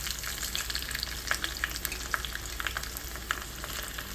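Cumin, garlic and green chili sizzle in hot oil for tomato rasam, a close, steady frying hiss dotted with sharp crackles and pops.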